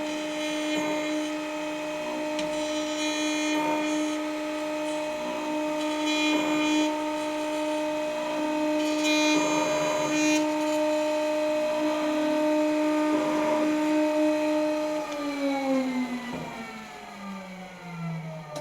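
A PowerMatic DT-45 dovetail machine with its router cutting half-blind dovetails in wood, a loud sustained high whine that wavers as the bit moves through the cuts and then spins down.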